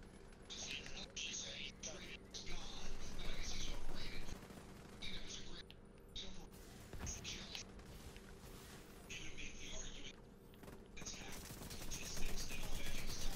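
An M60 machine gun in the video game The Division 2 is hip-fired in repeated rattling bursts, loud and close, with a player talking over the shooting.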